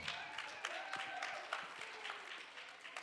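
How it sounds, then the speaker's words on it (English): Scattered applause from an audience at a youth emergency preparedness event, fairly faint and distant, with individual claps and a few voices mixed into the crowd noise. "Can we get a round of applause?"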